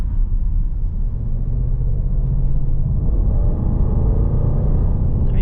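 Deep, steady engine rumble from inside a 2021 Range Rover Sport with a supercharged V8 pulling hard on an open road, a continuous low drone that builds slightly without pause.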